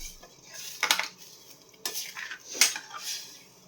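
A few metal clinks and scrapes of a utensil stirring mutton biryani liquid inside a pot, spaced apart, with soft liquid swishing between them.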